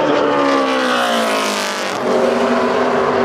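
A Camping World Truck Series truck on a qualifying lap at Phoenix roars past, loud and sustained, its engine pitch shifting as it goes by, with no voices.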